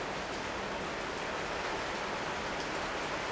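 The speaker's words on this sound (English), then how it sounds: "It's raining cats and dogs." Heavy rain pours steadily outdoors during a workshop build, a dense, even roar of drops hitting surfaces with no gaps and no voices.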